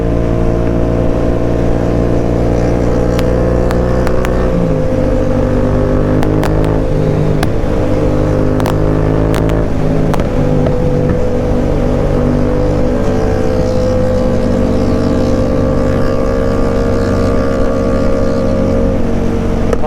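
A 700cc motorcycle rides at speed in second gear on a dusty road, its engine a loud, steady, close drone with a brief dip in pitch early on before the tone holds firm to the end.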